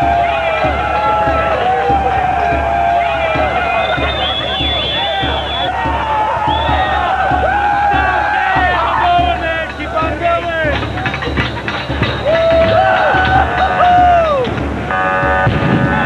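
A loud, chaotic crowd at the Freaknik street gathering, with dense hubbub and shouting voices, whistles and horn-like tones rising over a steady roar, with people talking throughout.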